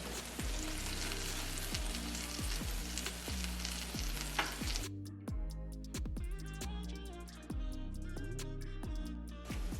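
Buffalo wings sizzle steadily in a Ninja XL while being flipped, a loud broadband frying hiss that thins out partway through, with rhythmic background music running throughout.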